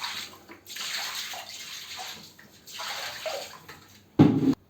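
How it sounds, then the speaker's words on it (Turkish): Water is poured onto tiled floor grout during cleaning, a broad steady splashing wash that swells and fades in waves, with a louder, closer gush at the very end. "Önce bir su dökeceğim arkadaşlar."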